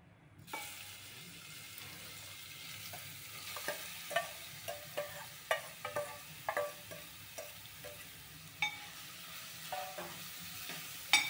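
Carrots fry in a pan with a soft, low sizzle, and a spoon stirs in irregular scraping, clattering strokes nearby, with no one speaking.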